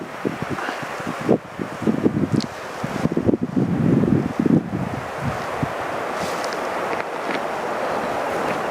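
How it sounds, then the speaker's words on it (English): Gusty wind buffets the microphone on a cold, blustery April day in the North Absaroka Wilderness, rumbling in strong bursts early on before easing into a steadier, softer rush. "Been a cold, blustery day."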